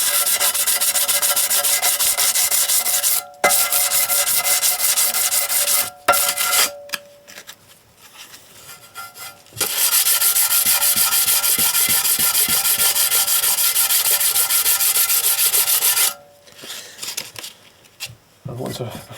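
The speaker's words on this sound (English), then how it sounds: "I'll give both surfaces a further clean." Abrasive scrubbing on the mating surfaces of a Ford EcoBoost 1.0 engine and its removed sump, steady broadband rubbing in long strokes broken by brief pauses, close and loud.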